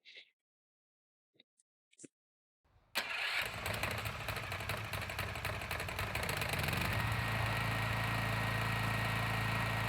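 A Mächtz portable generator engine cranks and catches after a few faint clicks, then settles into a loud, steady running drone that holds without a break to the end.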